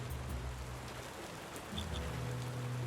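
Steady, faint rain hisses continuously in the tavern-management game Tavern Keeper, with a low hum running beneath it and no voices.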